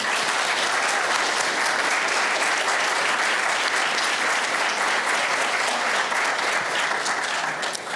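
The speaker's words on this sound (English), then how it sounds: "can we do another round of applause for our presenters today?" Steady, full round of applause from a lecture audience for the presenters, even and continuous for the whole stretch, moderately distant with no voices rising above it.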